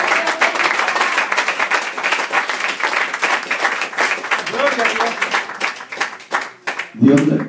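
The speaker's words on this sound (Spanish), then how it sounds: "Denle un aplauso al Padre, al Hijo y al Espíritu Santo." A church congregation breaks into sustained applause, a thick, steady wash of clapping filling most of the stretch and fading near the end, with a voice rising briefly at the close.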